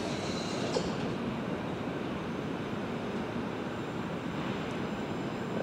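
A class 375 electric multiple-unit train arrives at London Waterloo East, a steady broadband rumble of wheels on rail with faint squeal, heard at moderate distance and continuous throughout, with no talk.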